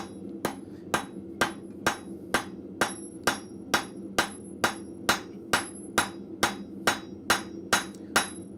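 A blacksmith hammers a steel pin to taper it at the forge, with about seventeen evenly spaced, ringing blows in a steady rhythm, close and clear with no talk.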